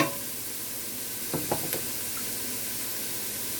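Onions sauté in a pan with a steady, bright sizzle throughout, a few faint clinks of a utensil partway through, close and continuous.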